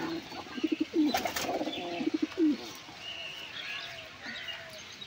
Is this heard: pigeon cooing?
yes